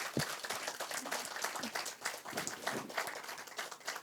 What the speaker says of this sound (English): I request everybody to give a big round of applause for sir.